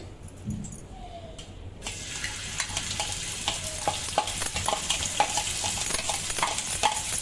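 Vegetables frying in a pan for veg frankie, salted and cooked until browning: a steady sizzle with repeated scraping and stirring clicks from a utensil, growing busier after a quieter start, no talking.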